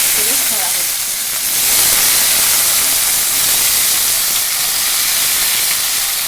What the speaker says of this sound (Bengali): আগে তেল বসিয়ে দিয়েছি এর ভিতরে একটা জিরে সম্বরা দেওয়া হলো